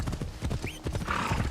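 Horse hooves clip-clopping in steady rhythm with a short whinny in the middle, from a galloping mount in the video game Assassin's Creed Shadows, moderately loud with game ambience behind.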